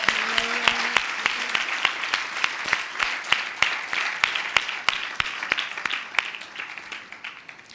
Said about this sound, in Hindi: ताली बजाकर यीशु की आराधना करें।